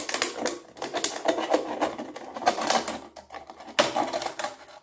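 Scissors snipping through a paper cup in repeated crisp cuts with short pauses between them, close and fairly clear with no talk over it.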